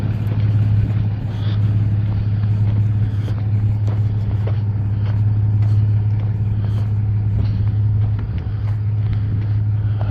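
A vehicle crawls over a washed-out road late at night, its engine a steady, loud low drone that holds throughout, with occasional bumps and clunks from the rough surface over it.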